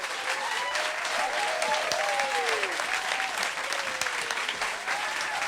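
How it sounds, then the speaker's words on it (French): An audience applauds a band at a live Radio 1 concert session, sustained clapping with scattered whistles and cheers throughout, loud and close. "Dames en heren, applaudisseren jullie al graag voor deze band."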